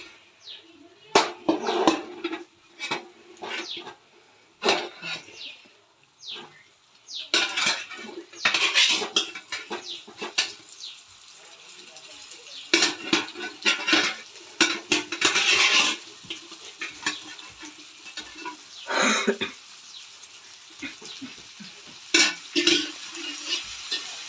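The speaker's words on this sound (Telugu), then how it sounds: "ఇప్పుడు దీంట్లోకి ఉడకబెట్టుకున్న కాలీఫ్లవర్ని వేసుకోవాలి." Boiled cauliflower tumbling into a pan of curry, then a spoon scraping and clattering against the pan in irregular bursts of stirring, close and fairly loud, with brief pauses between strokes.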